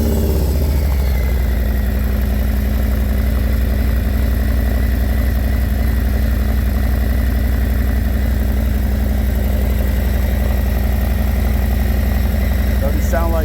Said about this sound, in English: I'll get it started and you guys can hear it run